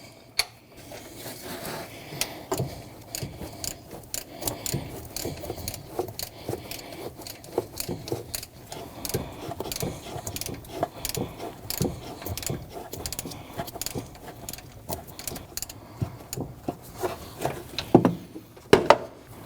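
A wrench works a 14 mm bolt loose on the idler pulley of a 2012-2021 Nissan NV2500 5.6L V8, giving a run of close, quiet, uneven ratcheting clicks and metallic taps.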